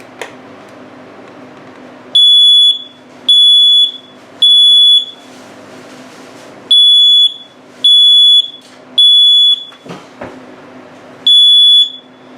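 A smoke alarm shrieks in long, loud pulses, seven piercing tones in a row separated by short gaps, with a brief dip partway through.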